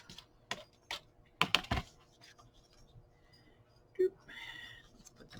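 Pieces of paper are cut down to 8.5 inches, producing a few sharp, crisp cutting snaps and clicks in quick clusters. The sound is quiet and close, separated by soft handling noise.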